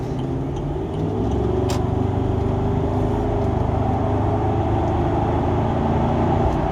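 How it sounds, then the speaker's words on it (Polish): The V8 engine of a 2007 Range Rover Sport idles and rumbles steadily with a deep, continuous throb, heard close up from inside or near the car. "odgłos jednostki V8"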